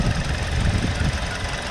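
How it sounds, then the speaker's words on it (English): A 2020 Kia Soul S with a double overhead cam 16-valve four-cylinder rated at 147 horsepower idles steadily nearby, a continuous low rumble with faint mechanical ticking and no speech. "Here's a shot of that double overhead cam 16 valve 4-cylinder engine, putting out 147 horsepower in this trim level."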